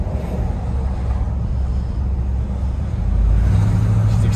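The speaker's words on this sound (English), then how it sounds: "She's accelerating really nice." A 1985 Chevrolet Silverado pickup accelerating, heard from inside as a low steady engine drone with road rumble that swells louder near the end, no talking.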